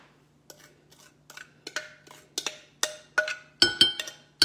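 Eggs, sugar and oil being added to a mixing bowl for zucchini pineapple bread: a run of short clinks and taps, steadily louder and closer together, ending in sharper knocks against the bowl.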